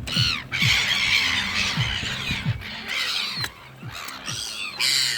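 Video game seagulls squawk and cry repeatedly, harsh overlapping calls in quick succession, loud and close, with no voices.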